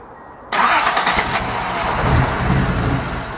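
A Datsun 280ZX engine running MegaSquirt fuel injection cranks and catches at about half a second, then settles into a loud, steady, slightly rough idle close by, with no talking.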